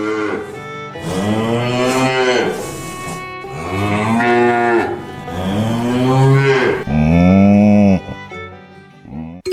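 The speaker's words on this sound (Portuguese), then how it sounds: "Esse é o som do boi." An ox moos in long, deep, drawn-out calls, three or four loud bellows in a row close at hand, each swelling and fading, with no voices present.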